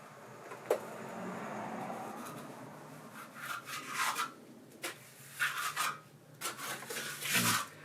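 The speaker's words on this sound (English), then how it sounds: "now you just go up to the wall. Yeah. And just scrape it on. Yeah, and like really push hard." Trowel pressing and scraping render onto a wall, a series of close, rough rasping strokes in irregular bursts, moderately loud with brief pauses between.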